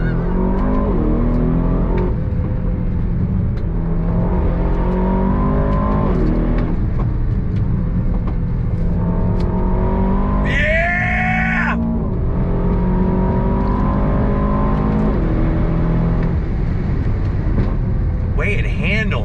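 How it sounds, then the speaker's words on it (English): A 2023 Aston Martin DBX 707 SUV at full throttle, heard from inside the cabin. The engine roars loudly and climbs in pitch through repeated gear sweeps, with excited voices talking over it. "On throttle, here we go."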